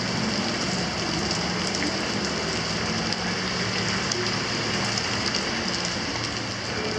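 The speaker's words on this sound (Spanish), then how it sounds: "Sigue lloviendo afuera" Steady rain falls outside in Quito, a dense continuous hiss of drops pattering on surfaces, even and unbroken throughout with no voices.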